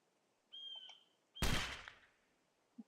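One sharp gunshot in Meriwether: An American Epic, fired at a small wild animal, bursts loudly and decays quickly, preceded by a thin whistling call-like tone and followed by a faint click.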